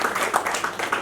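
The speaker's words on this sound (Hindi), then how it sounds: "उसके लिए एक ताली तो बनती है" Audience clapping at a film poster and promo launch event, a dense steady burst of applause for singers performing a Hindi film song, loud and continuous throughout.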